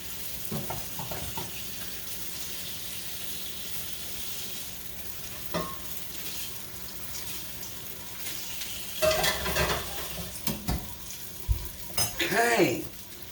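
A pork steak fries in a pan with a soft, steady sizzle, broken by a few clanks of utensils against the cookware and some stirring and scraping sounds near the end.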